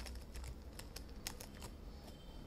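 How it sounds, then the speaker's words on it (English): Keys tapped on a computer keyboard while working in an Excel spreadsheet, a quiet run of light, irregular clicks at close range over low background hum. "I'm going to type the"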